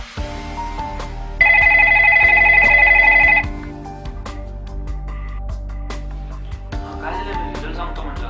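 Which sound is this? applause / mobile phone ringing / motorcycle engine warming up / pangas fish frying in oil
mobile phone ringing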